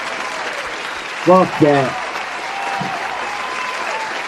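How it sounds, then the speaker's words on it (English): A crowd's applause rolls steadily and evenly throughout, while a voice briefly speaks over it partway through. "you get the motherfucking big ass round of applause for that shit"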